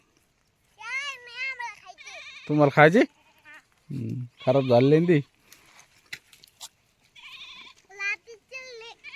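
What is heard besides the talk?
goats bleating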